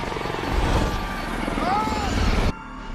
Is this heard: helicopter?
yes